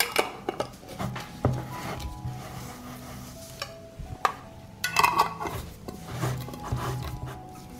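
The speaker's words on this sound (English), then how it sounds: "I close the jars with sterilized lids" Glass jars being closed with metal lids near at hand, clinks and scrapes with a few sharp taps and twisting rubs scattered over several quiet seconds.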